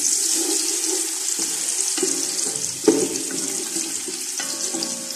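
Cumin, onion, tomato and green chillies frying in a pan, a steady hiss of sizzling oil with occasional stirring scrapes and clinks throughout, fairly close and without talk.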